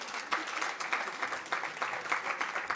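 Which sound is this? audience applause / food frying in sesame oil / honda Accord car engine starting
audience applause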